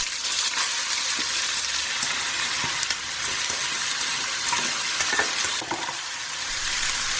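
Cooked rice being stirred into hot oil with frying mustard seeds and ginger for vegan lemon rice, a steady close sizzle with scraping spoon strokes throughout, no talking.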